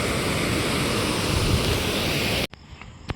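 The Phuljar river runs full after good rain, a loud, dense, continuous rush of flowing water heard up close before it cuts off abruptly to near quiet.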